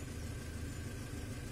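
A Mazda MX-5 engine runs at a steady, low idle, a quiet, even mechanical hum with a faint rhythmic pulse and no changes in pace.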